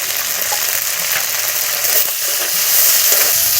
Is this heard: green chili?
yes